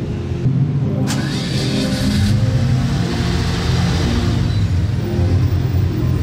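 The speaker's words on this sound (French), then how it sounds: "Ça va être le V12 le plus silencieux du marché. Elle va enfin démarrer les amis." A V12 car with a British plate cranks briefly, then catches and settles into a steady, close, low idle rumble that continues to the end.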